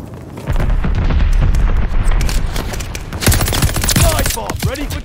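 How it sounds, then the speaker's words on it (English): A glide bomb explodes in Call of Duty Vanguard during a Team Deathmatch match, with a loud booming blast and rumbling debris amid scattered gunfire and sharp impacts. "Allied glide bomber on the way."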